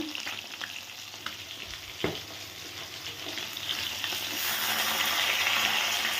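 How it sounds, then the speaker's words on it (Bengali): Pabda fish frying in hot oil in a pan, a continuous sizzle that grows fuller and louder toward the end, with a sharp clack of a utensil early on and no talking. "মাছগুলো আমি ভাজা শুরু করে দিয়েছি"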